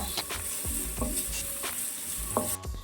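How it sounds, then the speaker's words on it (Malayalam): Onion and curry leaves stirred in a pan for tomato chutney, a continuous hiss of frying with a spoon scraping and clinking against the pan several times at an irregular pace, close and clear with no talking. "എല്ലാം കൂടി ഒന്ന് മിക്സ് ചെയ്തതിന് ശേഷം നമുക്കൊരു തണ്ട് കറിവേപ്പിലയും കൂടി ചേർത്തൊന്ന് മിക്സ് ചെയ്ത് കൊടുക്കാം"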